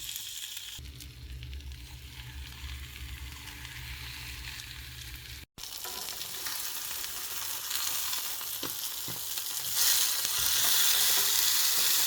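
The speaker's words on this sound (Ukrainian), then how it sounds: "Беремо топлене масло і відправляємо нашу рибку." Sesame-coated fish frying in ghee, a steady close sizzle and crackle that swells louder after a brief break, with no talking.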